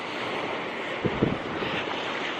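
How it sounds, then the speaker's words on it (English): Hard gusting wind buffets the microphone on a shingle beach by the sea, a constant broadband roar with a few louder low thumps of gusts, surf blending underneath. "The wind's a bit tricky. It's gusting quite hard."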